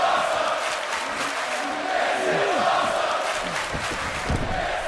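A video game wrestling crowd cheers and roars in a dense, continuous wash of voices with rising shouts. A commentator's voice runs faintly underneath.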